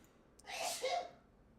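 A single close sneeze with a sharp intake of breath, then a forceful burst that trails off, heard on its own against a quiet background.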